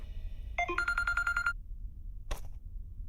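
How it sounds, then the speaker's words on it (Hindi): A phone ringtone sounds for an incoming call: a short rising tone sequence, then a steady repeating electronic melody for about a second, alone against a quiet room, followed by a brief sharp knock. "रॉकस्टार का फोन आ रहा है।"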